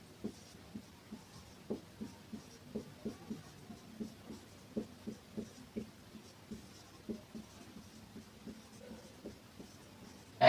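Chalk or marker tapping and scratching on a board while multiples of 2 are written out, a steady run of short strokes across the whole stretch, close and fairly quiet with no talking.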